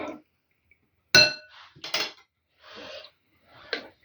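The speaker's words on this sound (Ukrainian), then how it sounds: "Так гарненько вимішаю спочатку з томатною пастою борошно." A utensil clinks against a bowl while flour is stirred into tomato paste for stuffed peppers: several crisp, separate metallic taps and scrapes spaced irregularly, close up, in otherwise quiet surroundings.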